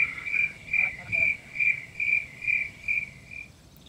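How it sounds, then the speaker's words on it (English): Crickets chirp outdoors on a golf course in a steady pulsing rhythm of about eight bursts, fairly close and clear, fading out at the end with no talking. "I heard the crickets chirping on that one, Jammer."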